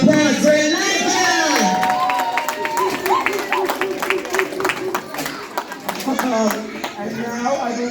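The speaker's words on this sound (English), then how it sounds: "I want to give a big, again, round of applause for all of you for being a part of this" Audience applause and cheering at a community art raffle gathering, with clapping and whoops running steadily under loud, continuous talk and crowd chatter throughout.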